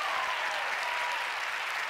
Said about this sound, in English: Yes, yes, big clap